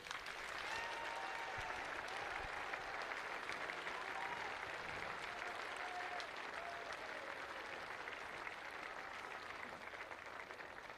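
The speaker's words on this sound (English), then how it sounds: "So just give a round of applause to all the rowers" Crowd applause for schoolboy rowers at an outdoor regatta presentation, a steady wash of clapping that sounds distant and fairly faint, with faint voices underneath.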